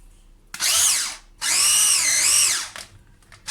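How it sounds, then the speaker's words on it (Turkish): An electric hand mixer whirs loudly in two bursts while beating butter for a cake, its motor pitch rising and dipping, with a brief third start at the end. "Mikserle çırpacağız."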